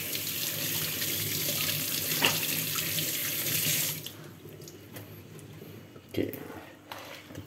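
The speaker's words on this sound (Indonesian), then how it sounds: "Ini guys, cuci tangan dulu." Hands being washed with soap under a running kitchen tap during preparation for a New Year's Eve barbecue, a steady broadband water rush for about four seconds, then quieter splashes and dripping with a few brief knocks.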